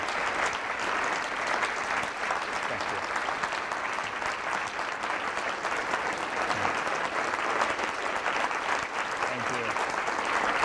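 Sustained audience applause after a talk at a disability conference: an even, continuous wash of many hands clapping at moderate loudness, with a murmur of voices underneath.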